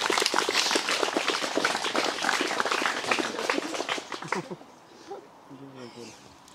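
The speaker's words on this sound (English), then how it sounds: "Give him a round of applause" Wedding ceremony guests applaud the couple in a lively round of clapping that carries for several seconds, then fades out into quiet chatter.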